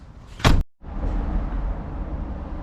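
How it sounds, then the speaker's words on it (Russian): Door of a BMW X5 E53 SUV swinging shut with one loud thump, followed by a sudden dropout and then a steady low rumbling hum. "Далее нам нужно закрыть все двери."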